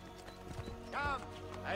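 Hoofbeats clip-clop briefly with a short horse whinny in Assassin's Creed: Brotherhood, mixed with game sound and light background noise.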